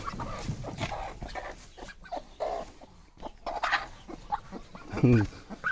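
A village chicken clucks beside a duck in a farmyard, short close clucks scattered among other farm noise and people talking nearby.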